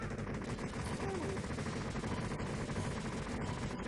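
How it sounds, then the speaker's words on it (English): Cannons fire constantly in the Total Carnage arcade-style video game, a dense, unbroken barrage of rapid gunfire-like blasts filling the whole moment at steady loudness. "These two cannons just fire constantly"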